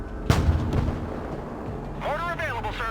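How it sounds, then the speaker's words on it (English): Mortar team artillery fire in the Broken Arrow war video game: one sharp, heavy boom with a rolling echoing tail, then a voice starts talking over the fading rumble. "Having the strategic use of indirect fire from the mortar teams was amazing"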